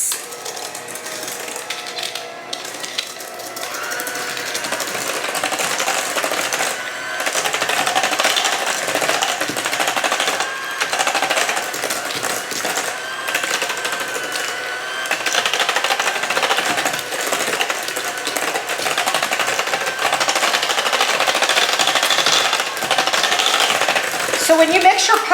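Pumpkin bread batter with dry ingredients being mixed by an electric mixer, a steady whirring motor hum running continuously and fairly loud throughout, with no talking.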